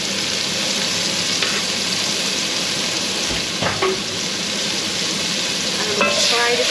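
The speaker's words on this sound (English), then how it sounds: "Fry the paste off for a few minutes just to get the rawness taken out of it" Rendang curry paste frying in a pan, a loud, steady sizzle up close, with a few utensil clinks and scrapes against the pan and no speech.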